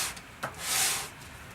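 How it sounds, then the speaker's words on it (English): Laser-cut wood pieces from an Estes Alpha model rocket kit are sanded, giving a short close rubbing swish that rises and fades within about a second, with a small tap just before it and no talking. "We want those sanded down so they're even with everything else."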